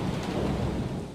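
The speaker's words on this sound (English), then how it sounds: "I'm stuck in a rainstorm right now" A rainstorm with thunder gives a steady broadband wash of rain and a low rumble, moderately loud and continuous throughout the short stretch, with no voices.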